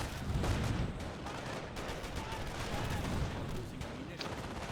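Sustained rifle and machine-gun fire in a Company of Heroes battle, a dense, continuous crackle of shots and distant artillery-like booms with a voice talking over it.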